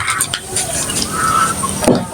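Vermicelli for milk-fried semai pitha stirred in a hot pan, with a close, continuous crackling fry and the scrape and clink of a utensil.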